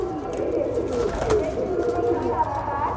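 Pigeons coo in low, throaty murmurs at moderate volume, with a brief sharp sound midway and someone speaking intermittently over the cooing.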